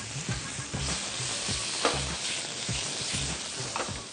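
Marinated prawns hit a pan of cooked onions with steady frying sizzle, broken by repeated low scraping knocks of a spatula stirring, close and moderately loud.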